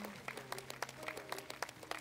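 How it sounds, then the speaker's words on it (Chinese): Audience applause in a TV talent-show studio, a fairly quiet, steady patter of clapping with a few sharper individual claps and a faint low hum underneath. "其实我觉得这个应该鼓掌一下"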